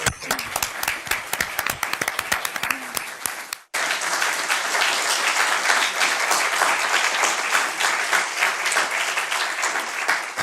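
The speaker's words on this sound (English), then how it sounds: "Let's have another round of applause." Audience applause at the close of a 2016 debate between naturalists and conservatives, loud clattering clapping that breaks off briefly and then resumes as a dense, sustained ovation.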